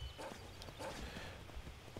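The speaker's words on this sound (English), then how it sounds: "Wee, let's go, Frost. Giddy up, giddy up, giddy up" A ridden horse's hooves clop at a quick, steady gait in The Elder Scrolls V: Skyrim Special Edition, fairly faint and close, over a soft background bed.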